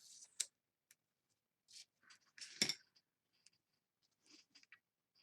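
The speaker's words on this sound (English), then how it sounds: "You need to use scissor sharpener." A scissor sharpener working on scissors produces a handful of sparse, sharp metallic scrapes and clicks, with one louder rasp in the middle. The strokes are separated by quiet gaps and recorded close up.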